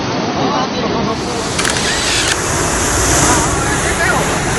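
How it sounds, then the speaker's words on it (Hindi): Water gushes rapidly out of cracked ground in Jaisalmer, Rajasthan, a loud, dense, continuous rushing roar with voices mixed into it. "धरती से अपने आप ही पानी निकल रहा है, रिसाव हो रहा है बहुत तेज गति से।"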